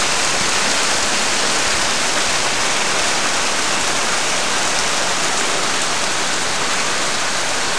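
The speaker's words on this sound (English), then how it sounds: "This rain started 2 seconds ago." Heavy rain pours down in a steady, dense roar of broadband hiss that stays loud and unbroken from start to finish, with no voices.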